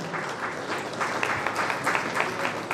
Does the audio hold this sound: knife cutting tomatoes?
no